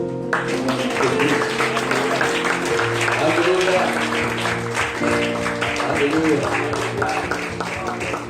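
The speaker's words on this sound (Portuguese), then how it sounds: "Vamos aplaudir" A church congregation claps along through a worship moment, steady applause blending with music and voices calling out, filling the whole stretch at close range.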